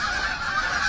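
Canada geese honk in a loud, continuous cacophony of nasal calls, a dense flock close by with no pauses and no talking.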